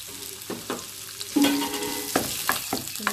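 Onions sizzling in oil and a knob of butter in a frying pan, a close, continuous crackle broken by a few utensil scrapes and clinks.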